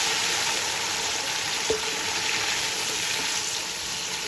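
Onion frying with two tablespoons of garlic ginger paste gives a steady, dense sizzle and hiss from the pan, close and constant, with a single faint clink of a utensil partway through.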